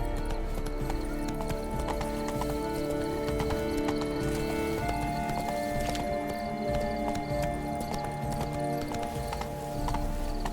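Horse hooves clip-clop steadily at a gallop in The Witcher 3, with an occasional whinny and ambient game music underneath, running continuously and close.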